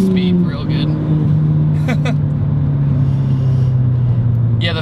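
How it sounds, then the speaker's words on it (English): A stage 3 Ford Fiesta ST accelerates in third gear, its engine note rising steadily as it pulls hard from inside the car, with turbo spool and someone talking over it. "All right, third gear, roll into it. Spool. Oh yeah, this thing picks up speed real good."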